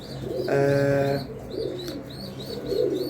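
Pigeons cooing nearby, with a clear low cooing call followed by softer repeated coos and light chirps, fairly close and alone against a faint background.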